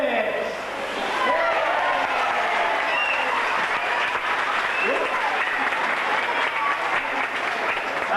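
Spectators at a 1995 Flamingo Land sea lion show break into applause and cheering, a loud sustained crowd roar with whoops rising over the clapping and a presenter's voice heard over it.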